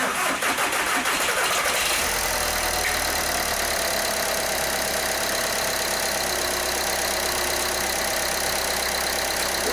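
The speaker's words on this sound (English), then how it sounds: "All right, let's see if this thing starts. Glow plug cycle." A VW TDI diesel cranks and fires after its glow plug cycle, then settles into a loud, steady, clattering idle recorded close to the engine.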